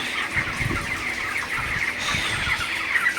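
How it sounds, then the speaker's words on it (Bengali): A flock of broiler chickens clucks continuously nearby, a dense chorus of overlapping clucks with no talking. "মুরগি তাড়ানোর দেখাই তো মুরগিগুলো শুয়ে থাকলে খাবার কম খাই"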